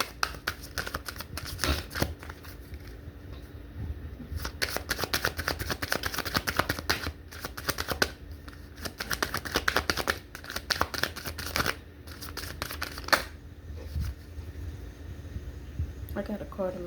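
A deck of cards is shuffled close by in repeated crisp, riffling bursts with brief pauses between them, spread over many seconds, while a person talks.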